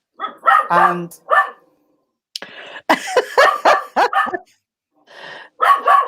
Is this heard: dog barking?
yes